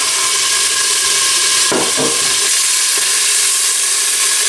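Finely chopped shallot frying in olive oil in a heavy-bottomed cast-iron pot for a lentil, beef and carrot tagine, a steady loud sizzle throughout with a brief burst of crackling and stirring partway through.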